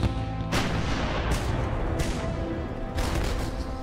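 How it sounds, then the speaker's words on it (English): Heavy artillery fire from US battleships shelling Guadalcanal and Tulagi in 1942, loud booming blasts repeating irregularly over a constant rumbling roar, with no voices. "US battleships start shelling the islands of Guadalcanal and neighboring Tulagi"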